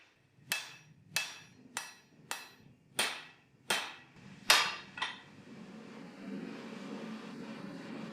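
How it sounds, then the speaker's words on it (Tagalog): A hammer strikes steel bar stock while a katana blade is forged, seven heavy ringing blows at an even, deliberate pace, close and clear, followed by a low steady hum once the hammering stops. "Pwede ko nang simulan agad ang pagpapanday ng talim mula sa bar stock."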